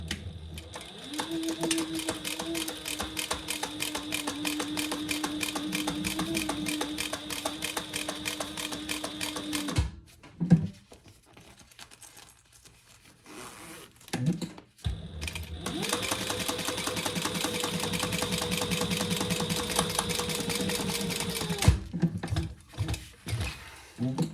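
A sewing machine stitches a seam on an eyeglass case pouch: a fast, steady mechanical whir with rapid needle clatter, running in two long bursts separated by a brief pause with small handling clicks, close and alone.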